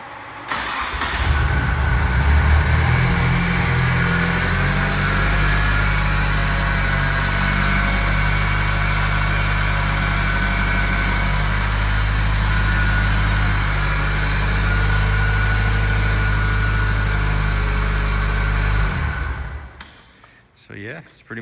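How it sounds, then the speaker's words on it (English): A Nissan SR20DET engine in an S14 cranks and catches, then settles into a loud, steady, close idle for most of the time before being shut off near the end. "let me just start it one more time so you guys can see it."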